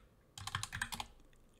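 A quick burst of typing on a computer keyboard: about six or seven rapid, close key clacks packed into under a second, then quiet.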